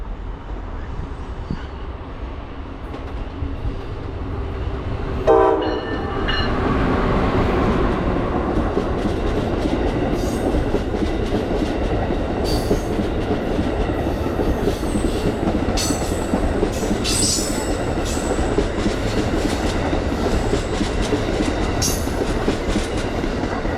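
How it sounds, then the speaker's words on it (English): An Amtrak Regional passenger train rumbles past close by at South Norwalk, loud and steady, wheels clattering and squealing over the rails; a short horn toot comes early on. "Amtrak Regional Train 139 running by on track number 1 with a friendly toot from the engineer"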